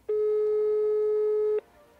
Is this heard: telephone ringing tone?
yes